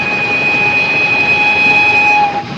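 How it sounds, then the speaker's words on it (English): Steam train whistle on a moving train, a loud, steady, high-pitched tone held for about two seconds over the constant rumble of the carriages. "Just listen to that whistle."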